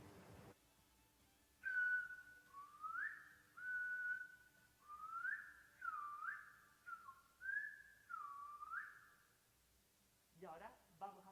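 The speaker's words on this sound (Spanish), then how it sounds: "voy a silbar esto de aquí muy despacio" A single person whistles a melodic phrase very slowly, held gliding notes rising and falling one after another in a quiet room, close and clear, with a brief noise at the end.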